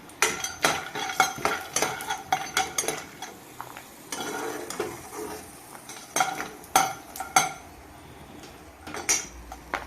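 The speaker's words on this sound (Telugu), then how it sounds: "ఇప్పుడు వేరుశనగకాయ విత్తనాలు ఫస్ట్ కానీ వేయించుకుందామండి" Peanuts roasting in a dry pan, stirred with a metal spoon, giving a busy run of rattling clinks and scrapes against the pan, close and irregular, with a faint sizzle beneath and no talking.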